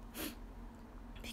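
A single short, sharp sneeze from a woman near the start, followed by quiet room tone and a faint breath at the end.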